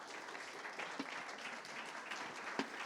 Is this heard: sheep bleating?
no